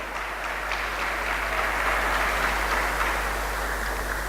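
Congregation applause during a Christian sermon in a church, a steady, fairly loud wash of clapping that holds for the whole stretch without spoken words.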